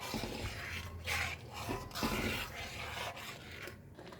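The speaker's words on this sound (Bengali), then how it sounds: "এবার নাড়তে হবে।" A spoon stirs rice pudding (payesh) with milk and rice flour in a pot, making soft rasping scrapes in a few uneven strokes, close and quiet, with no talking.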